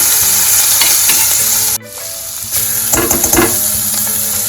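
Turmeric with ginger, garlic and chili paste sizzles and fries steadily in a pan while being stirred, a loud close hiss with scraping stir sounds and a brief dip midway, no talking.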